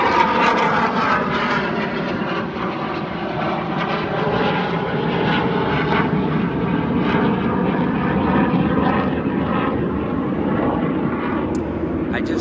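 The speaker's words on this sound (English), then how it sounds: "there's a couple of jets that are going by right now" Fighter jets from Miramar near San Diego roar past overhead, a broad, sustained rumbling exhaust that fills the whole stretch with little change in level.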